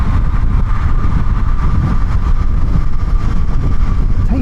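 Steady drone of a Honda Hornet 750 motorcycle engine while riding, with a constant loud hum and wind rumble through the whole stretch and no noticeable change in revs.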